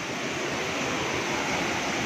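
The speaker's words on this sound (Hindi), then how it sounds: "ये पानी बाहर गिर रहा है इसका।" Water pouring out of a water-powered flour mill (pan chaki) in Samahni, a constant broadband rushing roar, close and steady, with no voices over it.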